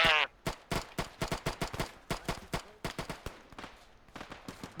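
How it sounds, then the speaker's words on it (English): Rapid bursts of gunfire crack repeatedly in a steady rhythm, loud and close, like automatic weapons firing in the game Arma 3. "I hear gunshot"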